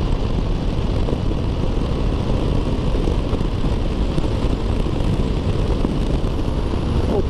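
Honda XRE 300 Sahara Rally motorcycle accelerating on a highway in northeastern Brazil, a steady, loud engine roar with heavy wind rush filling the whole stretch, no talk.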